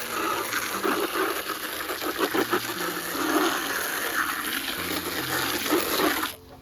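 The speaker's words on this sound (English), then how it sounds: "You just spray this out, get the dirt out of it." A strong, continuous spray of water gushes and splashes against a container to wash out dirt, pulsing slightly before cutting off abruptly near the end.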